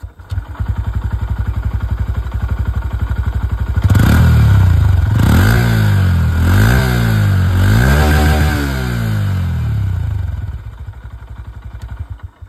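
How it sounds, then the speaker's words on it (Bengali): A 2025 Honda CB125 Hornet motorcycle engine rumbles close and loud at a steady idle, then revs up in several rising and falling throttle blips before settling back to idle. "2025 হন্ডা CB125 হর্নেট আছে এটার আওয়াজটা শুনিয়ে দিই"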